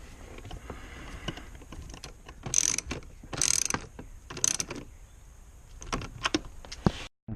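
A hand ratchet clicking as it loosens the center console nut in a BMW E46, with three distinct bursts of rapid clicks and lighter clicks afterward, close and alone in a quiet interior.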